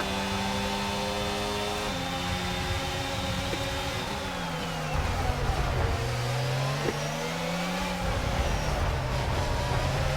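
Formula 1 car engine in the racing game F1 2022, with throttle and brake engaging on their own: a loud, continuous high-pitched whine rising and falling through repeated revs and gear shifts, with no voices.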